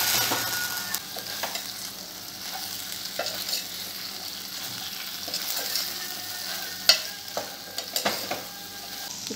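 Soya chunks stirred and fried in a pan for restaurant-style soyabean chilli, giving a steady close sizzle with scraping stir strokes and occasional sharper clinks, no talking.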